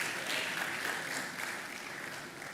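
Conference audience at a retail congress applauding as a presenter returns to her seat, a continuous wash of many hands clapping, loud and even across the short stretch, no talking over it.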